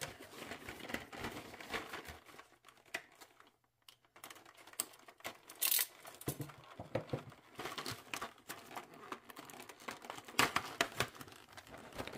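Soft crinkling and tearing of a plastic sticker packet pulled from an action figure box, a close, quiet series of irregular rustles and small snaps.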